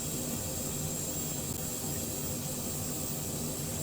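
BD-5J microjet engine at half throttle in Microsoft Flight Simulator 2020: a steady, broad, even jet roar with a faint high whine, holding at one level for the whole clip.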